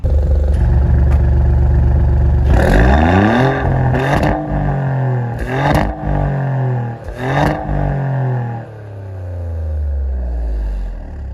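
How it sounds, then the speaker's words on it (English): A 2024 Maserati GranTurismo Modena V6 idles low, then revs sharply in four quick blips, each rising and falling, before settling back to a steady rumble. Close and loud. "we should just do a couple of blips for this engine and the exhaust"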